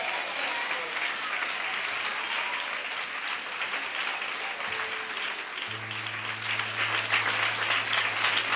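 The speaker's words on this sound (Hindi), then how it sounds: "जोर से ताली बजाएं" Church congregation applauding steadily at the urging of a preacher at a Hindi-language service, a dense even wash of clapping throughout that swells slightly near the end, with a low sustained musical tone joining partway through.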